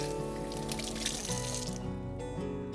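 A kitchen tap runs steadily into a sink as hands are washed, the water flowing close and continuous through the whole stretch, with no voices.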